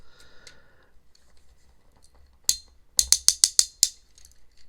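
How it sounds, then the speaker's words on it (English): Ratchet joints on a Transformers Missing Link Optimus Prime figure give a quick run of about seven loud, sharp clicks, close up, after a stretch of faint handling noise. "loud ratchets"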